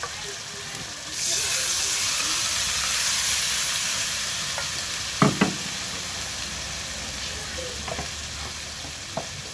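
Water poured into a hot pan while cooking at home bursts into a loud, broad sizzling hiss after about a second. The hiss holds steady, then eases, with a few sharp utensil clinks near the end.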